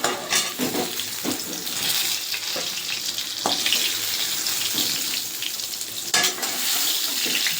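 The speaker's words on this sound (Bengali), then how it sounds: "আমি এই তেলে ভেজে নেবো আলুটা" Potatoes frying in hot oil for a Bengali fish curry with potato and eggplant, giving a steady close sizzle with occasional stirring clatter and sharper crackles, no talking.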